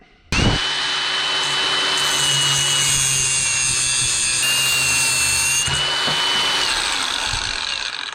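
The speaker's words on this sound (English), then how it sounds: "These 20-volt grinders don't have the speed or the power that my corded ones do" A cordless 20-volt grinder runs continuously at a steady, loud whine for several seconds while modifying a gas log splitter's wedge and push plate, starting abruptly with no talking.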